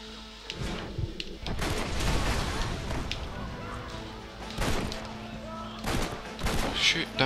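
Gunfire in the video game Red Dead Redemption, several sharp shots and bursts spread across the stretch, fairly close, with game sounds and some voice activity mixed in.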